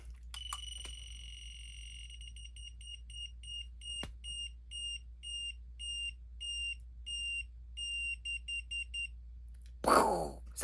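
An Eternal Moon Article Proplica toy emits a harsh electronic beeping tone, a long steady tone followed by a run of short repeated bleeps, loud and close, ending in handling noise.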